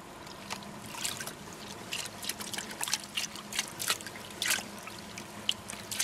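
Water sloshes and trickles as black sand is swirled in a gold pan outdoors, with uneven splashes and washes at close range and no talk.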